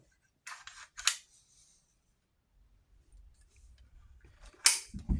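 A Cimarron 1887 lever-action shotgun's action is worked, giving two sharp metallic clacks close together near the start and another crisp snap near the end, with quiet handling noise between.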